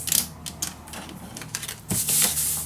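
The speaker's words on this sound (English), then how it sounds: "first of all, I cut my page at 7" Paper page being cut, a run of quick close mechanical clicks and rasps ending in a louder sustained slicing swish.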